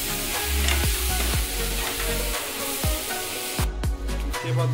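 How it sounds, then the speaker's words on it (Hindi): Tomato and onion curry sizzling in a pan while a spoon stirs and scrapes through it in repeated strokes, loud and close, with a steady low hum underneath and no talking. "इसको हम मिक्स कर देंगे"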